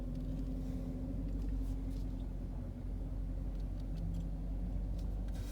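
A 1998 BMW 5 Series engine rumbling steadily in a parking garage at a car meet, a low continuous drone with no voices.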